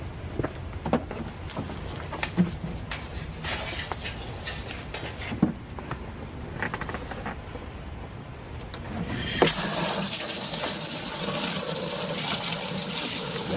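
Rainwater pumped by a plugged-in water pump feeds a spraying machine, heard first as a steady watery wash before a sudden, louder broadband hiss of spray takes over and runs continuously to the end.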